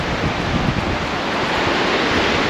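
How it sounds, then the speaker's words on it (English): Strong wind roars steadily across an open deck of the Diamond Princess cruise ship, buffeting the microphone with a dense, unbroken rush of noise. "It's going to be a little windy here."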